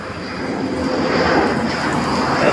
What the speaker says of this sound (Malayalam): അതിനിടയ്ക്ക് തന്നെ ഫ്ലൈറ്റ് കറങ്ങുന്നുണ്ട്